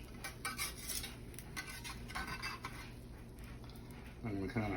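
A spatula scraping and turning food in a hot pan, a close busy rasp with clatter of metal on the pan, partly under a person talking.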